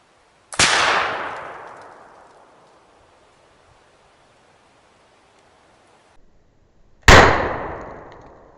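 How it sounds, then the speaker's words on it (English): Two sharp, loud shots from a .58 caliber Kibler Colonial smoothbore rifle, fired at wooden fascine armor, come about six seconds apart. Each is a cracking blast with a long, fading outdoor echo. "the first shot just appeared to have glanced the very top of the fascine"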